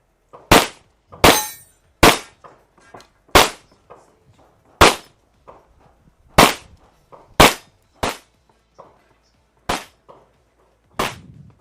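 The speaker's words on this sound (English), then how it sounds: "all of a sudden gunshots go off" Handgun shots ring out on a shooting stage at the European Handgun Championships. There are about eleven sharp, loud cracks in an uneven rhythm, with short pauses and brief echoes between them, and no talking.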